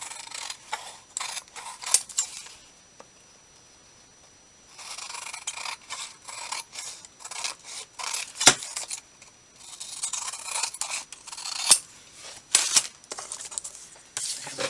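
Scissors cut through a manila folder for paper craft with crisp, close snipping and sliding clicks in uneven bursts, pausing briefly before resuming.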